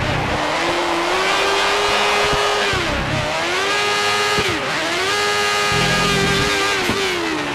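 An F1 car in F1 2013 screams at full revs during a wet race in Brazil, loud and close, with its high whine climbing and falling through several quick upshifts and downshifts.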